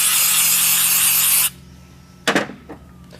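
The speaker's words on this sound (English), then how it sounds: "we're going to clean the plastic gauge off of each journal and off of each bearing cap with a little bit of brake clean." Brake cleaner is sprayed to clean plastigauge off crankshaft journals and bearing caps: a loud, close, steady aerosol hiss for about a second and a half, then quiet with a few brief knocks and wipes.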